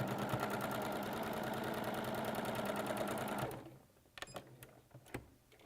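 A sewing machine stitching quilt pieces together with a quarter-inch seam runs steadily and close for about three and a half seconds, then stops, followed by a few soft clicks and handling sounds.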